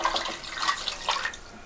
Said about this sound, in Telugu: దీంట్లోకి తగినన్ని వాటర్ పోసుకోవాలి.